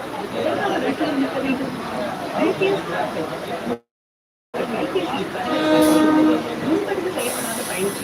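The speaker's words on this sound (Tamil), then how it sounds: "இந்த ட்ரெயின் செங்கல்பட்டு போகிற வண்டி" A train bound for Chengalpattu rumbles past with clattering wheels and a sustained horn tone, chatter and voices mixed in, briefly cutting out midway.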